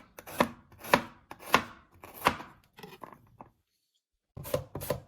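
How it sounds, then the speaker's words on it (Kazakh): A knife chops garlic for lecho salad on a board in crisp, close strikes: four evenly spaced chops, a quieter run of light taps, a pause, then two more chops. "Сарымсақты егер турап қосатын болсаңыздар, біркелкі туралуына басты мән бергендеріңіз дұрыс."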